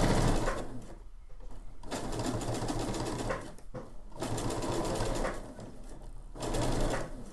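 A sewing machine stitching a visible topstitch seam on a pocket at a long stitch length, a close, steady rapid mechanical whirring and clatter running in bursts with brief slowdowns between runs.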